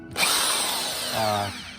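A power drill whirs at high speed, its motor pitch dipping briefly midway before it winds down; close and loud, with no voices.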